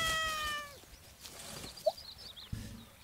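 A cat in Garden Simulator gives a clear, close meow with a falling pitch, followed by a few faint softer sounds and quiet background noise.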